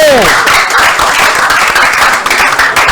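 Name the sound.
audience applause for Monsieur Camille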